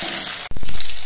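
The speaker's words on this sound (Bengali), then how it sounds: "বড়াগুলো অনেকটা বড় বড় আর লম্বা লম্বা হবে, তার জন্য দুটো করে একসঙ্গে ভাজছি।" Stuffed leaf fritters (bora), two at a time, deep-frying in hot oil with a steady, close hiss; a brief dip midway is followed by a few soft knocks before the frying resumes, a little louder.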